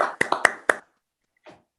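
Short burst of applause for an awardee at a Sierra Club SF Bay Chapter awards ceremony: four or five sharp claps close together, then silence and one faint soft tap.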